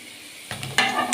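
Balah el sham choux dough dropped into oil, a quiet hiss that jumps into bright sizzling bursts within about a second, close up with no voices.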